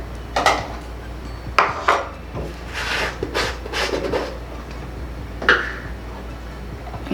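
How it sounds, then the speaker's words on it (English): Indian Healing Clay powder being mixed in a bowl, close scraping and clinking of a utensil against the bowl in irregular bursts, with no voices. "I'm going to mix my"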